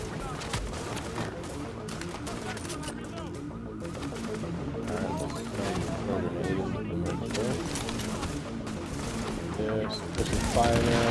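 Dense, continuous gunfire from the video game The Division, with overlapping bursts and booms throughout, loud and busy, with a voice talking over it.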